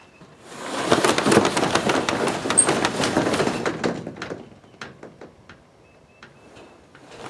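A garage roller door fitted with a new brush seal rumbles and rattles as it moves for several seconds, loud and close, then slows into a few scattered clunks and taps.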